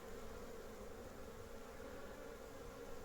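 Honeybees fly thickly at the entrance of a hive, making a steady, dense buzzing hum that stays even all the way through, close but quiet, with no voices.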